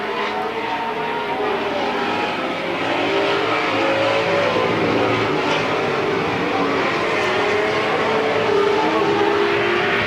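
Race cars roar around the Midvale Speedway oval in a 1995 fall classic event, a dense, continuous engine drone with engines passing and layering, loud and steady throughout.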